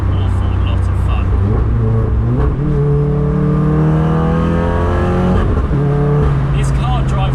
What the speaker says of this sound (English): This car drives so much better as well with these tyres on.